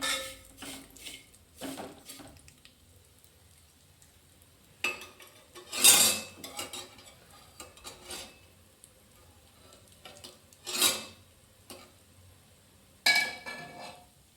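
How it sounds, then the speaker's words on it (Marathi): Vermicelli for kheer is sautéed in a pan with occasional spoon scrapes and clinks, several loud bursts standing out against a quiet background. The sound is close and there is no talking. "एक 2 मिनिट चांगलं परतून घेऊ."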